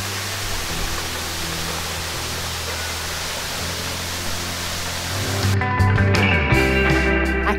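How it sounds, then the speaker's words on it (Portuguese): Cachoeira de Santo Antônio, a 20-metre waterfall in Brotas, São Paulo, roars as a constant broadband rush, loud and steady throughout, with a low hum and some clicks over it in the last couple of seconds. "Bem-vindos à Cachoeira de Santo Antônio."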